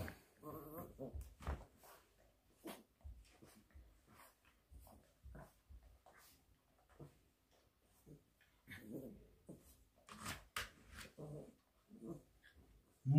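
A big, powerful dog whimpers and whines in short, scattered bursts while being bathed, with breathing and occasional splashes between the cries, close but fairly quiet.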